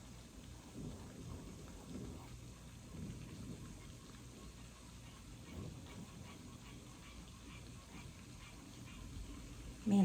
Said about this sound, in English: We must be getting a good storm.